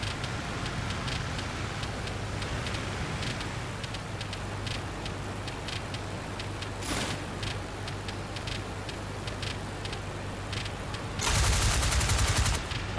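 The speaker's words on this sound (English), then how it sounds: "Gunner, start firing." Rear gunner's machine guns rattle in rapid, steady bursts in the Flying Circus flight game, layered over a constant low engine drone, with a louder, denser burst near the end.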